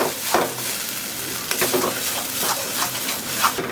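Coconut and mustard paste added to a frying pan with mashed taro and turmeric, sizzling loudly and continuously while scattered stirring clinks and scrapes come through close up, with no voices.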